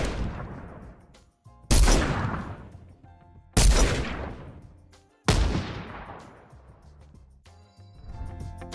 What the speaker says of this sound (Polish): Mimo tego dźwięki tej broni jasno daje znać, że w swoich strzałach rzeczywiście pakuje te 50 punktów obrażeń.